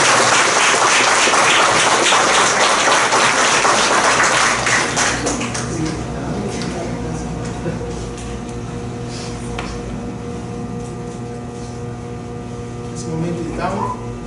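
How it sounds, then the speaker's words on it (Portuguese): Church congregation applause during Mass, a loud dense clapping for about five seconds that fades into quieter room tone with a faint steady hum. "Uma salva de palmas e Deus."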